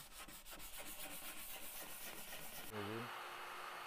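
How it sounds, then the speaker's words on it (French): Hand sanding of a plywood cabinet with fine-grit sandpaper before painting: continuous close rubbing strokes in a quick rhythm, cut off near the end by a brief tonal mechanical whine. "On sait que l'armoire est faite de contreplaqué, ce qui signifie qu'on doit que légèrement la poncer avant de peindre"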